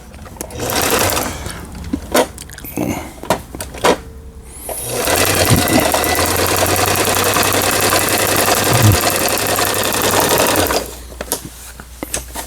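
An old Brother Star 2000 sewing machine, just repaired, runs a zigzag stitch in one steady, loud mechanical whir for about six seconds, framed by close handling clicks and knocks before and after.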